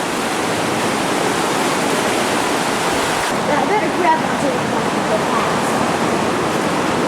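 Floodwater rushes loudly and steadily through a swollen stream at Camp Nauvoo, a continuous broadband roar; someone speaks briefly over it midway.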